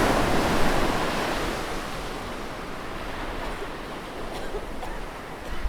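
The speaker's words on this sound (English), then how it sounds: "The waves crashed again" Ocean waves crash and wash in a steady roar of surf, loudest at the start and then settling into a continuous broadband hiss with a faint wind-like rush.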